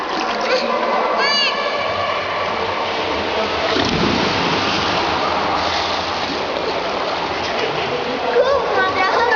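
Children swim and splash in water, giving repeated loud splashes and churning close at hand, with children's voices calling over the noise.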